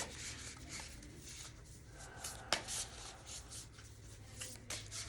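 Soft, continuous rubbing and shuffling of tarot cards close by, quiet and steady with a couple of light taps.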